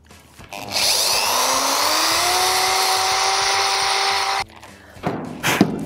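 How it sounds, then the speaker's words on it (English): A power drill with a 4mm bit whines up and runs steadily for a few seconds drilling a shallow pilot hole, then stops; a short second burst follows, close by. "I'm using a 4mm drill bit, secured it in my chuck, and now I'm ready to drill,"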